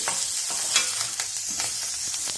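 Steady sizzle of lentil powder and curry leaves frying in a pan, with soft scraping from stirring at regular intervals, close and fairly loud with no talk.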